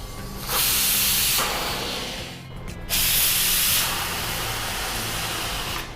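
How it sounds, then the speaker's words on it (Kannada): Pressure cooker in a home kitchen, cooking peas for a Mangalorean batani ambat curry, giving off loud hissing steam-whistle bursts that come in two long blasts with a short gap between them. "ಇದೀಗ ವಿಸಿಲ್ ಬರ್ಲಿಕ್ಕೆ ಆಯ್ತಲ್ಲ"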